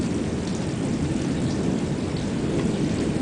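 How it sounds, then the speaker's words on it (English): Heavy thunderstorm in Phoenix: a steady, roaring rumble of continuous thunder blends with pouring rain, loud and unbroken throughout with no pauses. "It's just constant thunder."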